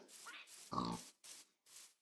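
Short grunting sounds from a pig in a modded survival video game, a few quick snorting bursts followed by one fuller, louder grunt, with no talking.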